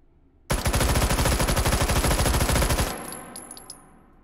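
A Vityaz submachine gun in Hot Dogs, Horseshoes & Hand Grenades VR fires one long rapid burst of closely spaced loud shots for about two and a half seconds, then cuts off with faint mechanical clicks afterward.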